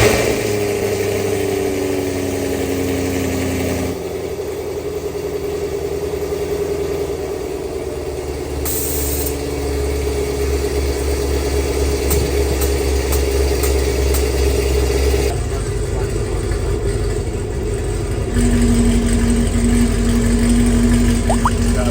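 A 2019 Camaro SS V8 fitted with catless Texas Speed headers and an X-pipe, idling with a deep steady rumble outdoors, with a few light blips and revs, loud and close throughout.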